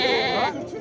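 A lamb bleating at a livestock market in Timahdite, one short close wavering bleat that fades out, over faint market background.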